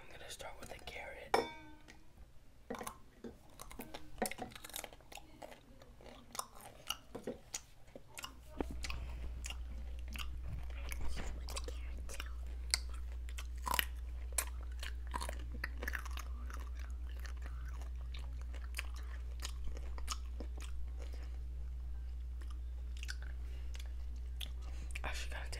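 A raw carrot being bitten and chewed up close, giving soft scattered crunches and mouth clicks over quiet whispering, with a steady low hum coming in partway through.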